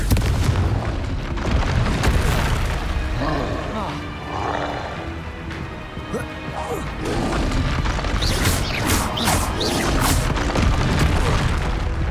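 Confringo blasting spells explode repeatedly during Hogwarts Legacy combat, a series of loud booms and crashes layered with spell effects and a voice calling out in between.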